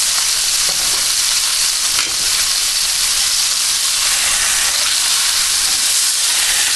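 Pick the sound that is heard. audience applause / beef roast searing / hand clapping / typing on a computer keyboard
beef roast searing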